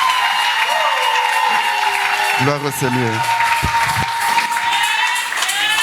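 Church congregation claps and cheers in steady, loud applause that fills the whole stretch, while a voice speaks over it briefly and a sustained musical tone hums beneath.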